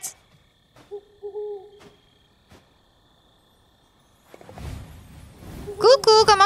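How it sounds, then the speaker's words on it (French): Soft owl hoots in the video game Death's Door, a couple of low, gentle calls in a quiet scene, before a person begins talking over rising game sounds. "Ah oui, la chouette!"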